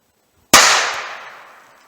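A .38 Special revolver firing a 170 gr Keith semi-wadcutter lead bullet outdoors from about 5 yards toward a chronograph: a single sharp, loud gunshot after a short silence, with the report decaying over about a second.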